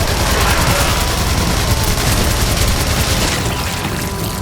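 Rapid, dense gunfire from Soviet-era combat in the video game Singularity crackles and booms continuously, loud and close, easing slightly toward the end.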